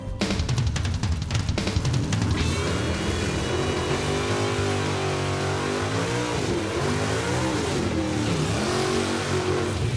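A 1970 AMC Gremlin does a burnout, its engine revving hard and loud with a roaring, wavering tone that holds steady throughout, close and continuous with no talk.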